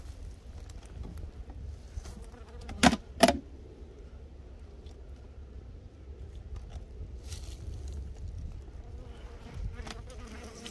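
Honeybees buzz around an untreated beehive, a faint continuous drone with a couple of brief louder bumps and handling knocks.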